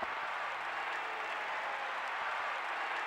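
A crowd of moon people in Dark Cloud applauds steadily, a dense, even wash of many hands clapping at a moderate distance without pause.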